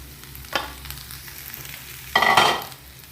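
Okra, or lady's finger, goes into a frying pan for an aloo fry, with a low steady sizzle broken by a short scrape and then a louder burst of hissing and stirring near the end.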